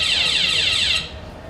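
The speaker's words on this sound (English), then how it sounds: "so the alarm is sounding. That means the security system has been, there is an intruder which is being detected." Home security system intruder alarm sounding, a loud electronic siren with repeated rising sweeps in quick succession that cuts off near the end, leaving quiet background.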